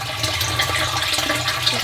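Water drains steadily from a tank on a homestead build, a continuous rushing, gurgling flow heard close and alone without talk.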